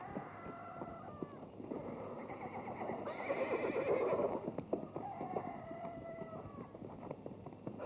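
Horses in an old 1959 Soviet film whinny loudly while hooves clip-clop at a gallop, a rising burst of neighing over rhythmic hoofbeats with no voices.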